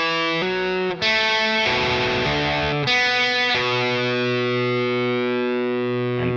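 A distorted electric guitar plays a riff alone, several loud sustained notes and chords changing in a steady rhythm, the last one ringing out.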